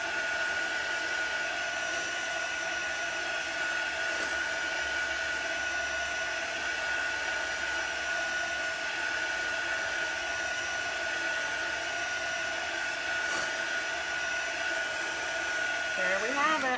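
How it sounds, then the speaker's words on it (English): A heat tool drying chalk paste on a craft surface blows with a steady, unbroken whir and a faint high whine, running close and constant for the whole stretch with no talking over it. "I'm just using the heat tool just to speed it up a little bit."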